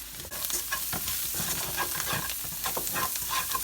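Garlic cooks in a pan with fresh parsley and thyme for a creamy Dijon mustard chicken, giving a steady close sizzle broken by frequent scraping stirs and light clinks of the utensil.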